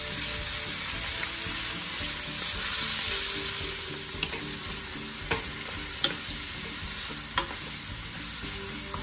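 Ground turkey fries in a pan for pumpkin chili under a steady close sizzle, with a few sharp spoon scrapes and taps as it is stirred around.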